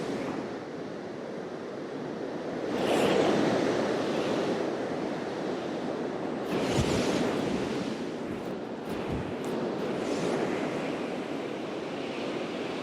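Strong wind roars through trees on an open walking trail in the South Downs, a steady broadband rush that swells and eases in wave-like gusts, with no voices.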